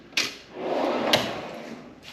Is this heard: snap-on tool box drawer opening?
yes